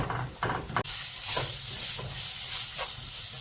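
Coriander powder, chilli powder and garam masala sizzle in a hot pan for jackfruit seed thoran, with a spoon scraping and stirring a few times at first before a steady loud frying hiss takes over.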